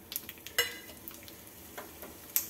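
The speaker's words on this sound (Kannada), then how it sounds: "ಎಣ್ಣೆ ಬಿಸಿ ಆದಮೇಲೆ ಇದಕ್ಕೆ ಒಂದು ಚಮಚ ಸಾಸಿವೆ, ಸಾಸಿವೆ ಸ್ವಲ್ಪ ಸಿಡಿಲಿ, ಎರಡು ಚಮಚ ಧನಿಯಾ" Mustard seeds and coriander seeds fry in hot oil for a wedding-style vegetable kootu, making a soft, quiet sizzle dotted with scattered little pops and crackles close by.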